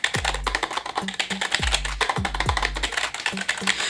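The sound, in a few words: membrane keyboard key sounds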